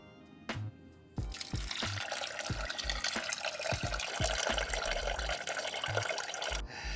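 Milky water drains and sputters from the drain valve of an Eastwood QST 30/60 air compressor tank, a steady splashing, dripping stream close by after a brief hiss at the start, with no talking.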